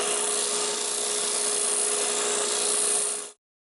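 A bandsaw fitted with a 3/4 inch blade cuts through wood in a steady, loud, close rasping whir with a constant tone, running for about three seconds before stopping abruptly into silence.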